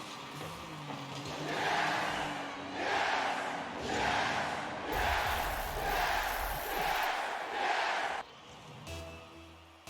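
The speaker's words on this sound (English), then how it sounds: "Crowd loving the action." A crowd roars and cheers in surging waves during a tied, tense late moment of a video game match. The swells are loud and sustained, then the cheering cuts off abruptly near the end.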